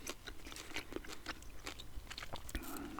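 Close-up chewing of Wrigley's chewing gum in a whispered ASMR setting, with a steady run of moist, clicky smacks and crunches.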